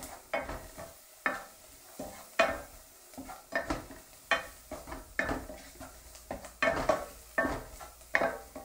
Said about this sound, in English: So we'll just give that a quick stir